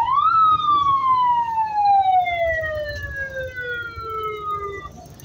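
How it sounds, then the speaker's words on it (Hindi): A wailing emergency siren sweeps up sharply then glides slowly downward, loud and nearby, over a low rumble of traffic. "आई थिंक एम्बुलेंस है कोई, मैंने समझा पुलिस की गाड़ी है।"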